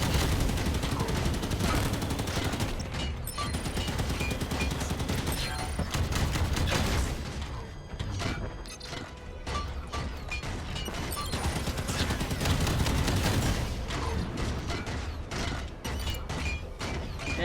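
Sustained heavy gunfire from a Mantis mech in Halo 5, dense rapid bursts layered with mechanical clanks and crashes, loud and continuous with a brief lull midway.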